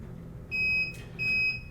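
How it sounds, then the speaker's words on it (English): Two short electronic beeps from a Setaflash Series 8 ActiveCool flash point tester sound in quick succession as a flash is detected, clear and evenly spaced, over a low background hum. "We'll have 2 beeps, and you can hear the cooling system come on"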